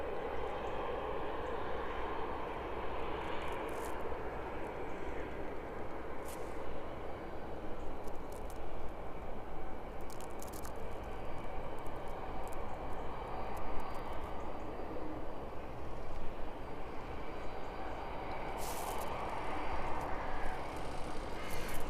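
A DHL Boeing 757 cargo jet taxis at an airport behind hangars, its engines a distant, steady whine and roar that holds throughout with faint intermittent clicks.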